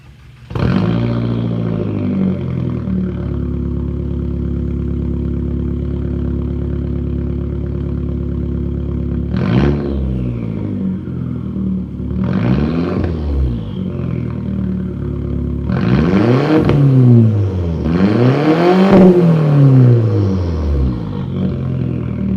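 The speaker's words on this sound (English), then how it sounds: "it is straight piped, 2 3/4 inch straight piped, going all the way to the back" A straight-piped MK4 Volkswagen Jetta with 2 3/4 inch exhaust run to the back idles with a deep, loud rumble, then gives several sharp revs that rise and fall, the last few closer together.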